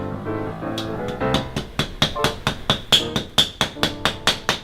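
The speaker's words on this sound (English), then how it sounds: "you're left hand chiseling all that glue off the floor." Old glue is chiseled off a floor by hand with repeated sharp strikes that start uneven and settle into a steady, close rhythm of about a dozen knocks, each with a bright, ringing edge.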